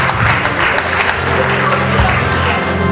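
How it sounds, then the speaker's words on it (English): Congregation applause for the family at a memorial service of songs, a continuous wash of clapping with voices and a low musical hum running underneath. "Round of applause for the family, please."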